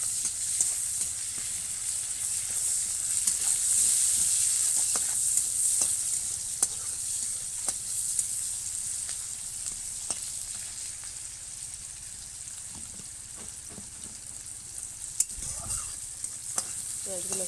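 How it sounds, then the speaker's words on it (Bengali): Chopped onions frying for an eggplant bharta, with a steady close sizzle in a pan and repeated scraping and clicking as a utensil stirs them throughout. "পেঁয়াজগুলো একটু লাল লাল করে ভেজে নেব।"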